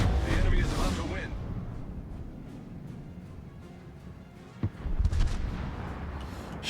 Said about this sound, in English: Shots out at the Daring.